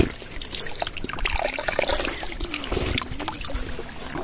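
Cold mountain water trickles and splashes steadily close by at Gogaldara near Tangmarg, Kashmir, a continuous bubbling flow with no talking.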